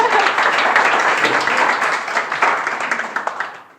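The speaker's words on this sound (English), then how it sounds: "Crowd goes wild." A conference audience at a tech talk claps and cheers in a dense, loud burst that holds steady, then thins out and fades toward the end.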